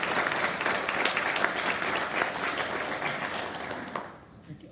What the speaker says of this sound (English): So let's give yourselves a round of applause for doing that work.